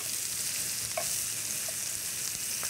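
Duck sears in a hot pan, browning its outer layer to a golden colour. A dense, steady sizzle runs the whole time, close and even, with a couple of faint clicks and no talking.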